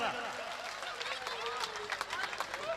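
Audience applause and cheering at a Hindi comedy kavi sammelan, a dense crowd clapping under a lively babble of voices and laughter, with a voice carrying over the top.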